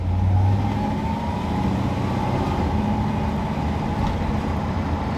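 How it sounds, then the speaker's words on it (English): The 289 V8 engine of a 1965 Ford Fairlane 500 runs close by with a deep, steady rumble and a slight rev at the start, continuous and unaccompanied by talk. "289 V8 revving up."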